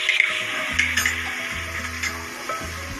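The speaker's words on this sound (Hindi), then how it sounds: "अदरक लहसुन फ्राई करते हैं।" Ginger garlic paste frying in a pan for chicken white karhi: a continuous soft sizzle with a few light utensil clinks, close and moderately quiet, with a low hum underneath.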